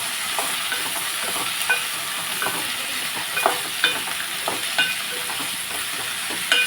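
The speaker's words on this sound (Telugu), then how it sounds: "దీన్ని బాగా ఫ్రై చేద్దామండి" Ivy gourd pieces with turmeric fry in a pan, a continuous soft sizzle broken by repeated close scrapes and taps of a spatula stirring them, with no voices.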